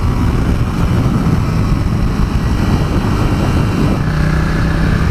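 A Ducati XDiavel motorcycle engine roars loudly and continuously, a dense, rumbling drone that holds steady throughout and rises slightly near the end.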